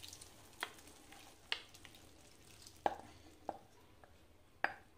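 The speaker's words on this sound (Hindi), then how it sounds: "और इसको अच्छे से मिक्स करेंगे।" Boiled urad dal and rajma are stirred into cooked masala for dal makhani, giving soft scraping and a few sharp spoon knocks against the pan over a faint sizzle, close and quiet.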